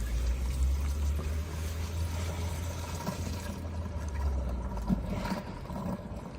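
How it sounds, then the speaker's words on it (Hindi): Water draining out of an 87-litre tank as it is emptied, a steady rushing pour with a low rumble that runs without a break for the whole stretch, fairly close and moderately loud. "लो भाई, यहाँ हमारा सारा पानी निकल जाएगा।"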